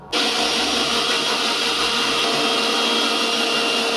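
A mixer grinder blends lemonade with chilled water, starting abruptly into a loud, constant high-pitched whir that runs steadily without pause, close by and alone.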